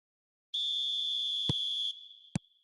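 Referee whistle in the eFootball 2026 football game: one long, clear, shrill blast of over a second, with two short dull thuds around it, heard alone against silence.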